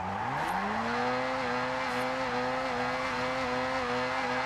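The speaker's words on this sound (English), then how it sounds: "You want to build up as much speed as you can and just throw it into a drift." A car in Forza Horizon 6 revs its engine as it is thrown into a drift, a rising, then sustained whine holding steady with faint tire squeal underneath, loud and close, no voices.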